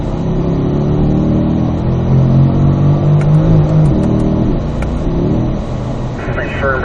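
Corvette engine pulling hard downhill on a race track in fourth gear, a loud steady roar with rising rev tones close by, a shift partway through and wind noise, with a driving instructor speaking over it.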